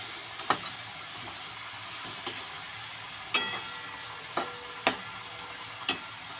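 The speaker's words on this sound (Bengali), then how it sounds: "লঙ্কার গুঁড়ো দিয়ে মাছ ভাজা কিন্তু ভীষণ টেস্টি লাগে।" Fish coated in chili powder masala fries in oil under a covered pan, with a continuous soft sizzle broken by about six sharp, spaced pops and spits.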